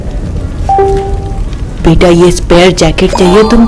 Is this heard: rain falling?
yes